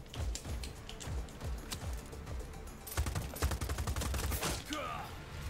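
Rapid bursts of sniper rifle gunfire in Just Cause 4 crackle in quick succession, dense and loud, with sharp repeated reports from a game battle and a short whooshing sound near the end.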